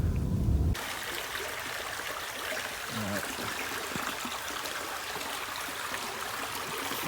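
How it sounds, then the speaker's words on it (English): Fast-flowing stream in a forest, a steady, close rush and trickle of water that stays even throughout, with a brief louder rustle at the start. "Found a bit of stream here now. Quite fast flowing water"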